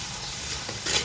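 Spices frying and being stirred in oil for degi yakhni pulao, a close, brief crackling sizzle with a stir stroke near the end.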